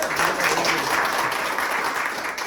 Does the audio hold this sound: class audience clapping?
yes